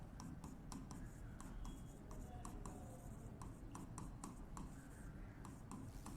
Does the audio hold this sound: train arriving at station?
no